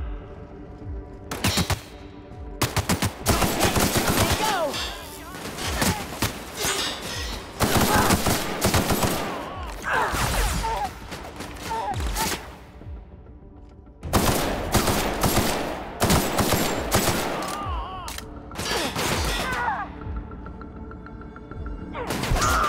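Rapid automatic gunfire erupts in a shootout in the video game The Outer Worlds, loud sustained bursts separated by short pauses, with sharp impacts and booms over roughly twenty seconds.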